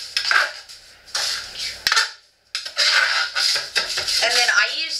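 A spoon scrapes and clinks inside a pot as a homemade laundry soap mixture is stirred. The sound comes close up in irregular bursts separated by brief pauses.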